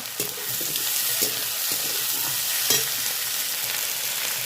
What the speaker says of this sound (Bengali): যে আলুটা দিয়ে ভেজে রেখেছিলাম হালকা সেটাকেও দিয়ে দেবো একসঙ্গে সব আমি ভেজে নেব